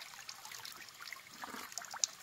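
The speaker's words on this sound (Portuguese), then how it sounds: "Porque tem muita água, ela não fica parada. Ela vem lá da serra." Water from a mountain stream flows past in a faint, steady trickle, gentle and continuous with small bubbling splashes and no voices.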